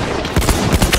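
Battlefield 1 gunfire: a rapid string of loud, close weapon shots in a steady automatic rhythm, filling the short moment with no talk.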